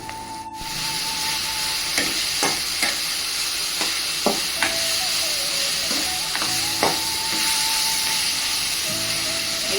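Chopped spinach sizzles and hisses steadily in a hot pan while a spoon stirs and scrapes through it, producing scattered clicks and knocks over the continuous frying noise; no voices.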